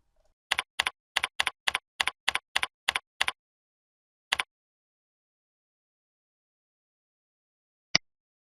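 Quiet computer keyboard typing during form entry, heard as about ten quick, evenly spaced keystrokes close by. Two more keys follow after a pause, and a single tap lands near the end with no talking.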